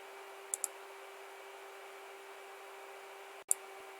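Quiet mouse clicks: a quick double click near the start and one more single click later, each sharp and brief over a faint steady electronic hum, no speech.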